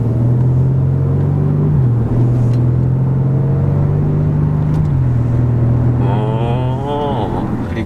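Synthesized engine sound from the Bose audio system of a Hyundai Sonata N Line in sport mode, a four-cylinder made to sound like a six: a steady, loud low drone with slight pitch shifts, rising near the end.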